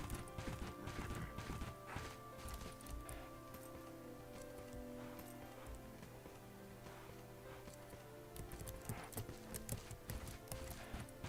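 Horse hooves in the Bella Sara video game, a quiet, fairly rapid clip-clop of hoofbeats over game sounds, continuing through the whole stretch.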